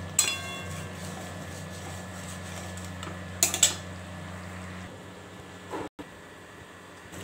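Fish curry in a pan is stirred with a metal utensil, giving a couple of scraping clinks over a low steady background hum, quiet and close, with no talk.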